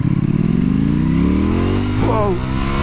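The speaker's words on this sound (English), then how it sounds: "Close the throttle. Let's give it a little tickle in the first couple of gears." A Ducati Panigale V4S motorcycle revs and accelerates through its first gears. The loud, close engine note rises in pitch with each pull and briefly drops at a shift, while people talk over it.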